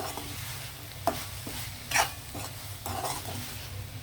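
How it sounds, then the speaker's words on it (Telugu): A spoon stirs a mixed vegetable fry with scallions and cumin-coriander powder in a pan, giving soft scrapes and clinks over a low sizzle, with no voices. "ఇదిగో జీరా ధనియా పౌడర్ వేస్తున్నానండి ఇది కూడా ఒక అర స్పూనే దీన్ని మనం ఒకసారి కలిపేద్దాం"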